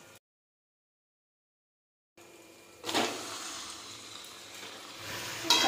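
Chicken meat drops into a pan of fried spice paste made from ground chilli, cumin and coriander, bursting into a loud hiss after a brief silence and settling into a steady sizzle, with a scrape of stirring near the end.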